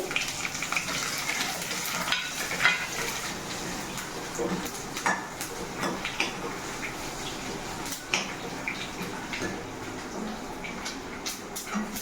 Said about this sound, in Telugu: ఆవాలు కిటపట ఉంటున్నాయండి